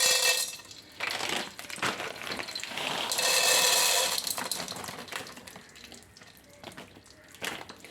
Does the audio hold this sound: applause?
no